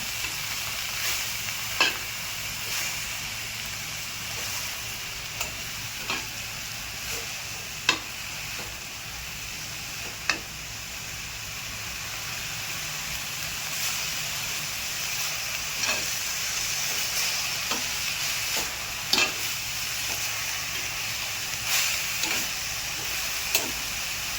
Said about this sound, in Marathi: परतून घेते. खाली वर करते चांगलं.